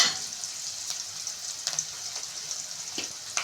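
Onions sautéing in a pan for egg thokku, turning golden: a steady, moderate sizzle with a hissy texture and a few soft stirring clicks, no voices.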